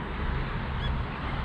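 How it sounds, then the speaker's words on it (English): A duck on a small pond where someone is bass fishing, its short quack rising briefly over a loud, rushing outdoor background with no talk. "Oh yeah, it was just a duck."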